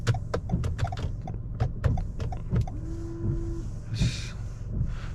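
A power window motor hums steadily for about a second inside a 2019 Toyota Camry XSE, set against a steady cabin rumble with scattered clicks, and no one speaks.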